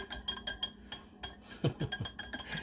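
Whisking olive oil and garlic dip with cracked pepper in a bowl, a quick run of light metallic clinks and taps, close and steady with a few stronger strokes.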